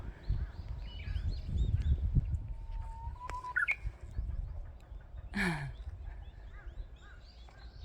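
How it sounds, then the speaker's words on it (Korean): Birds calling outdoors in the countryside, a few sharp chirps and a rising call among low rustling and handling noise, fairly close but sparse against the background. "요 근처 어딘가 새가 있네요"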